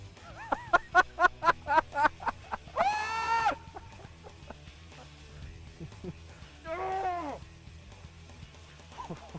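Ducks quack nearby: a rapid series of short calls, then two louder drawn-out calls separated by a quiet stretch.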